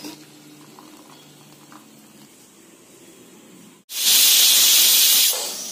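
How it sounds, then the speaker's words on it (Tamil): Jaggery melting in water begins to boil for chana dal payasam, a quiet simmer and faint bubbling followed by a sudden loud steady hiss of steam that fades slightly at the end. "வெள்ளம் கரைஞ்சு கொதிக்க ஆரம்பிச்சிருச்சு பாருங்க"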